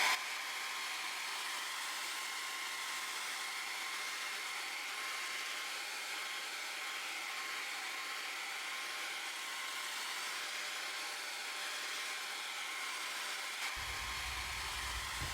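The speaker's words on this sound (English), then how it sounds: "I'm blow drying this on top of a cutting board so that the heat doesn't warp my self-healing mat." A hair dryer blows steadily and close on printed Cricut tattoo paper resting on a cutting board. The even airy whoosh runs without a break, and a deeper low hum joins in near the end.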